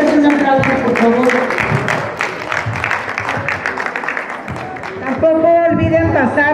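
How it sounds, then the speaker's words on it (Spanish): Applause from an audience at a community public-space meeting in a hall, dense steady clapping with a loud voice talking over it and then taking over near the end. "un aplauso, por favor"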